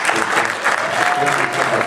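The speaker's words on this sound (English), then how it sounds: "Guys, how about another big round of applause?" An audience gives a speaker a big round of applause, a loud, sustained roll of clapping from a room full of people with a few voices underneath.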